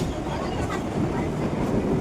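Inside a moving train carriage, a continuous rumbling ride with rhythmic clickety-clack of wheels over rail joints, close and steady throughout.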